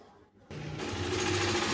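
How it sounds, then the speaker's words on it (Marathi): A mixer grinder grinds roasted dry spices for misal: after a short quiet pause the motor kicks in with a loud, steady, close whirring drone that holds to the end. "आधी हे कोरडे मसाले आपण वाटून घेऊयात"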